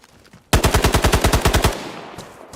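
An AUG rifle fires in a video game: a single rapid burst of about a dozen sharp, loud shots in even rhythm, then a short fading tail.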